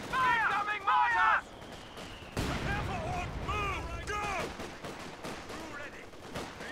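Mortar and artillery fire in the Company of Heroes 2 video game on the Port of Hamburg map, booming explosions and scattered gunfire layered with in-game unit voices and radio chatter throughout.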